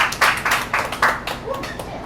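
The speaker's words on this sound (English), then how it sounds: "Clap it up, everybody." Rhythmic hand claps after a Showtime performance by the dance group Legendary Boys: about eight sharp, evenly spaced claps at a brisk beat, fairly close and loud, fading toward the end, with a voice faintly mixed in.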